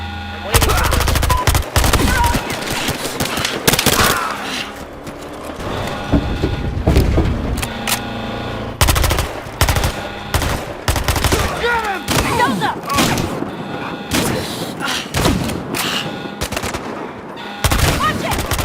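Gunfire in the video game Battlefield Hardline: loud, close bursts of automatic fire and single shots in irregular rapid clusters, with shouted voices in between.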